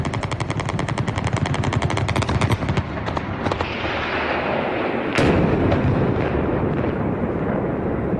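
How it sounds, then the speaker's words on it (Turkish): Rapid automatic gunfire rattles in dense bursts alongside heavy booming explosions and sound grenade blasts during a coup attempt, loud and echoing across an urban night, with continuous rumbling afterward. "Hemen hemen her yerden bomba sesleri, silah sesleri,"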